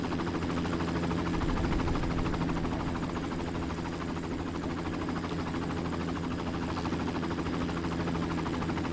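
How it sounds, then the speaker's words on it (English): A helicopter in the Far Cry video game gives a steady, fairly faint rotor drone with a low engine hum throughout, unchanged across the clip, with no talk. "Hello, helicopter! Where are you?"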